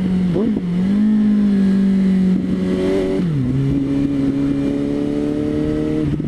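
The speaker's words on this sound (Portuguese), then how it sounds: "Boa reduzida aqui para o freio motor ajudar." A car downshifting on a winding descent to use engine braking, the engine note jumping up sharply with each gear change then holding a steady drone, loud and close with no talk.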